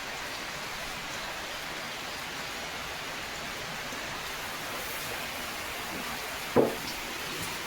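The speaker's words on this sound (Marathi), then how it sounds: "आमच्याकडे बघा खूप पाऊस यायला लागले आता" Steady, dense rainfall hisses without a break, with a single brief thump near the end.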